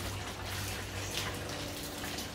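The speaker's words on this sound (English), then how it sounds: "I'm putting a fair bit of water in, she's pretty big" Water pours steadily into a plastic fish transport bag, a dense continuous splashing rush close by that runs without pause.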